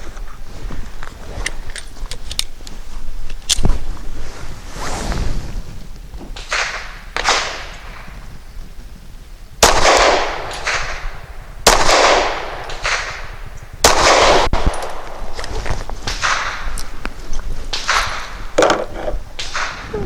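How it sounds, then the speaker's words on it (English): A custom Glock G43 pistol firing Legend Pro 115-grain copper hollow point rounds on a range: loud, sharp cracks fired at irregular intervals, with fainter echoing pops and ringing between them. "for the number 5 circle, I'm going to be shooting the Legend Pro Copper Hollow Point"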